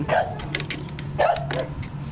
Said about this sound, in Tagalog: Pasensya na po sa mga aso dahil may dumating po.